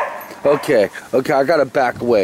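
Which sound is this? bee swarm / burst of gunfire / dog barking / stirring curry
dog barking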